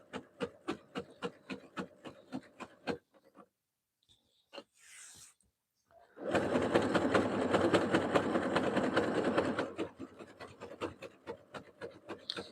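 Sewing machine zigzag stitching fabric around a corner, rapid rhythmic needle clatter in quick bursts, a pause with small handling sounds, then a loud continuous whirring run before the clatter resumes.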